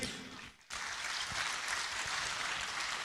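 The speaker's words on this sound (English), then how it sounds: "Ladies and gentlemen, a round of applause one more time for His Majesty the King." An audience applauds the Asantehene, Otumfuo Osei Tutu II, at an art awards ceremony, with a brief dip and then a steady, full wash of clapping from a large crowd.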